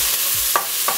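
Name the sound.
onions sautéing in a pan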